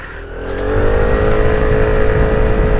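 An Aprilia SR GT 200 scooter, roughly 170-something cc, accelerating from low revs to a steady, loud drone with a Vespa-like engine note, close up and with no talking.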